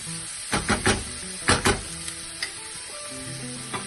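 Onion and garlic sizzle in a hot pan, a steady frying hiss with a few loud stirring scrapes and clatters early on and softer knocks later.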